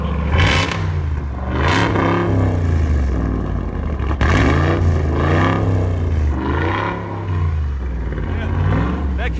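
Supercharged 6.2-liter HEMI V8 in a Ram Rebel TRX concept truck, rated 575 horsepower, fired up and blipped hard several times; close and loud, its deep rumble swelling and falling in repeated rev surges.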